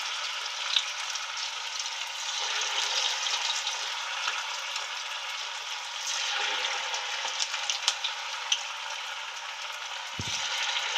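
Corn fritters (makke ki bhaji) frying in a kadhai of hot oil over high flame, a steady close sizzle with small pops and crackles throughout, no voices.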